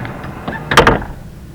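Sliding door on a 1999–2004 Honda Odyssey rolling shut with a faulty middle roller, ending in a rattling, shaky thunk as it closes, heard close and alone.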